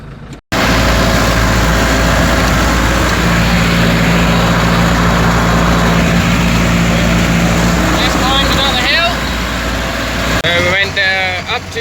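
A Fordson Super 4 County tractor's diesel engine drones steadily and close while descending a big hill, a continuous loud rumble with a voice chirping over it near the end.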